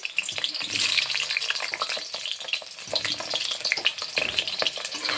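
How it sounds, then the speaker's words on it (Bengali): Potatoes fry in a hot pan for a home-cooked country chicken curry, a dense continuous sizzle with crackling pops and occasional stirring scrapes, close and steady. "আগে আলুটা ভেজে নেই।"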